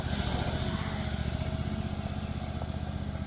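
A small lawnmower-type garden tractor engine runs steadily, powering the hydraulic pumps of a remote-controlled Mule moving a 12x24 shed, a continuous chugging drone at moderate distance with no talk.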